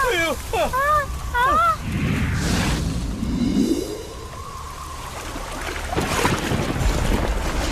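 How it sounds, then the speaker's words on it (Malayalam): Strong wind roars and gusts continuously, with a churning, storm-like rush. Voices wail and cry out over it at the start. "അയ്യോ അയ്യോ കാറ്റ് പേടിയാവുന്നു."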